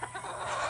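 Chickens on a small backyard farm cluck in a brief, close burst of fowl calls, a short busy flutter of clucks with no speech.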